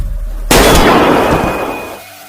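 A single sharp gunshot firing a rubber bullet, heard in a tug-of-war game scene: a loud sudden crack followed by a long, broad ringing decay that fades over about two seconds, with no talk.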